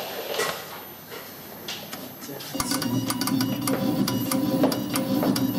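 Pneumatic marking machine driving its needle to mark a part, starting after some light handling clicks with a sudden onset of rapid, continuous buzzing taps that keep going steadily and fairly close.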